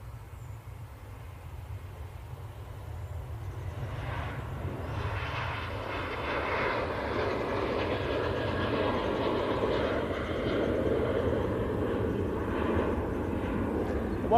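Boeing 737 in Ghost livery on its takeoff roll at Manchester Airport, a steady broadband jet roar that builds gradually and holds strong, fairly distant, with no voices.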